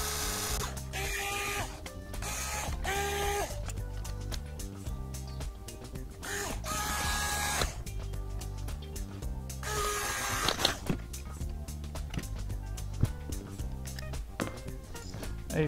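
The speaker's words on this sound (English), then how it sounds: "Sixteenth-inch bit pilot hole into the wood" Bursts of mechanical whirring from a drill with a sixteenth-inch bit boring a pilot hole into wood, stopping and starting repeatedly, loud and close, with clattering noises between runs.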